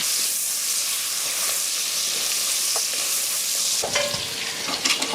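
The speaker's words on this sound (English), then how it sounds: "See, it's sizzling." Steady, loud sizzling of butter and sage in a hot pan, a constant crackling hiss with a brief stir near the end.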